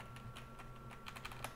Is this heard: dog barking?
no